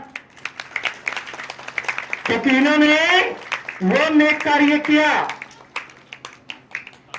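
Scattered clapping from an audience at a Buddhist vihara gathering, sparse sharp claps heard between and beneath a man's sustained, sung-like speech.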